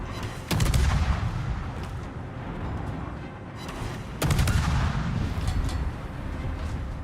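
Two heavy warship gun salvos in World of Warships, each a sharp loud boom followed by a rolling rumble, spaced a few seconds apart.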